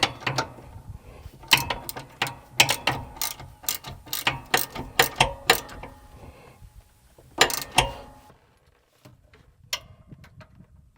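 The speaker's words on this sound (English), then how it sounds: "I'm going to use a socket wrench to" A socket wrench ratchets on a John Deere steering gas strut, giving bursts of quick, sharp clicks close by, then a pause and a few more scattered clicks near the end, with no talk.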